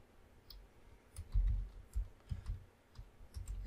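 Computer keyboard typing, a cluster of irregular soft clicks and taps at close range, moderately quiet with no talking.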